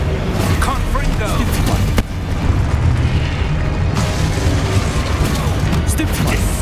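A Confringo spell blast in Hogwarts Legacy lands among dense combat noise, giving deep booms and bursting rumbles that sound loud and continuous, with in-game voices mixed in.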